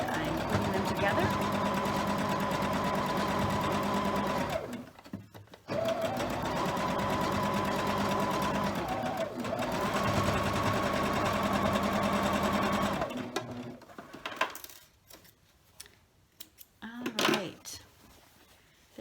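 A sewing machine runs in long, steady bursts, stitching rows of a scrap quilt block together, pausing briefly between runs, then stopping as quieter handling noises follow; the motor hum is close and loud.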